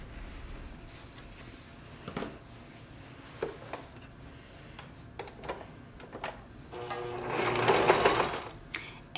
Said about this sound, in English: I'm just going to repeat, stitching out on one half of the quilt and then in the other half of the quilt.